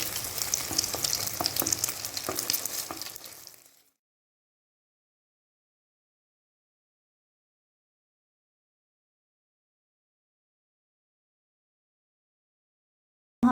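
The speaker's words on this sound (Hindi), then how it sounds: "इसमें डालेंगे अंडे और इनको कर लेते हैं फ्राई।" Eggs fry in a hot pan for chicken fried rice, a loud, close hiss and crackle for about four seconds before the sound cuts to silence.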